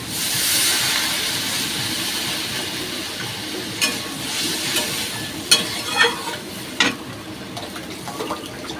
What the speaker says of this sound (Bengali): তেল ছেড়ে এসছে, এবার জল দিয়ে দিই।